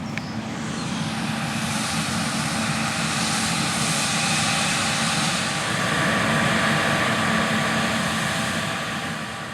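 A 2019 John Deere S770 Class 7 combine harvester working through a wheat field, a steady loud mechanical drone of engine and threshing that holds constant throughout with no speech.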